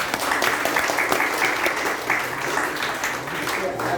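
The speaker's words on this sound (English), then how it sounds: "Give them one round of applause also." Audience applause at a youth leadership program meeting, steady dense clapping sustained throughout at moderate loudness, with some faint voices mixed in.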